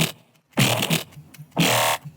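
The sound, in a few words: Growl Magma synth one-shot in Vital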